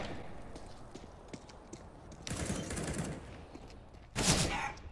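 Bursts of gunfire from a shooter video game, a sustained rattling volley midway and a sharper, louder burst near the end over a low background.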